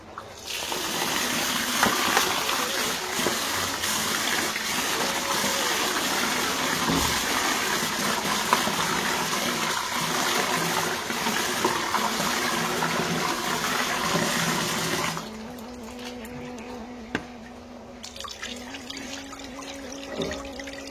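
Rice is washed under running water, a loud continuous gush from a tap that splashes steadily, then drops to a quieter trickle with faint handling sounds toward the end.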